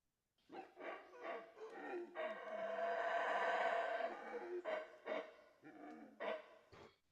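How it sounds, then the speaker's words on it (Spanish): A mantled howler monkey calls with a run of rough, rhythmic vocal bursts that swell into a long sustained roar in the middle, then break back into separate pulses, close and fairly loud with no talk. "Pues eso es el mono aullador de manto, y van a notar que es notablemente diferente al del mono aullador negro."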